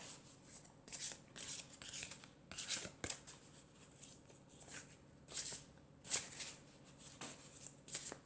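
A deck of tarot cards is shuffled and cut on a table, giving repeated quick riffling bursts and crisp slaps at an uneven rhythm, up close and alone.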